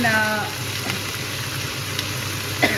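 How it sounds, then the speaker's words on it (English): Red chilies frying in hot oil in a home kitchen while making vatha kozhambu, a steady soft sizzle throughout with a couple of light clinks, faint and unbroken with no talking over it. "since you have put the red chilies in oil"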